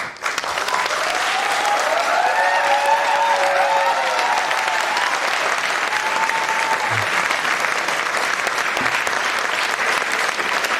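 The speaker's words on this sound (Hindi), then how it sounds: "और आप सभी की तालियों की गड़गड़ाहट के बीच आपको बताना चाहेंगे" Sustained audience applause fills a Hindi stage play, a dense and even wash of many hands clapping that holds steady and loud for about ten seconds with no voices over it.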